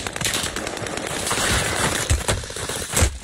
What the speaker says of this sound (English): I'm getting shot from the other way